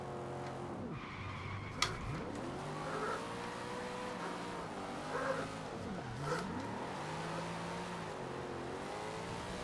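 A Dodge car drifts and slides in the Forza Horizon 2 racing game, its engine revving and falling through gear changes while tyres squeal in long, wavering skids, with a couple of sharp clicks, steady and close throughout.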